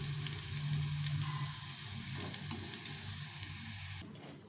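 Green pea patties (tikia) fry in hot oil with a soft, even crackling sizzle, fairly quiet and steady, ending abruptly near the close.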